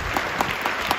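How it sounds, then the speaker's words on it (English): A J. League stadium crowd at a Yokohama F. Marinos match claps in steady, evenly spaced unison beats, moderately loud and diffuse across the stands with no chanting. "Of course there's a clap."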